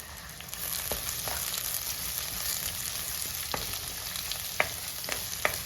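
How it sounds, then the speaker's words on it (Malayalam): Curry leaves sauté in hot oil for a fish curry, giving a soft, steady sizzle with occasional faint spoon scrapes and clicks against the pan. "ഇനി ഇത് ചെറുതായിട്ടൊന്ന് വഴണ്ടാൽ പോരാ, നന്നായിട്ട് വഴണ്ട് വരണം."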